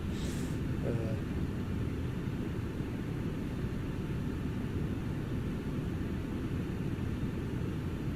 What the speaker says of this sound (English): Nothing like the sound of the JT8Ds.